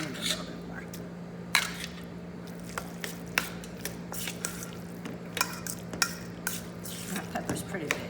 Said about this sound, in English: And now we're stuffing the pepper